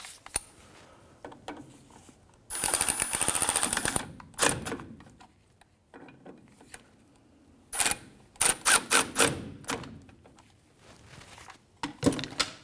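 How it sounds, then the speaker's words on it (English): Ratchet wrench clicks rapidly while wheel cylinder bolts are tightened on a 1994-2004 Chevrolet S10 drum brake, several bursts of fast ratcheting separated by pauses, close and crisp. "we're going to go ahead and tighten up our wheel cylinder bolts"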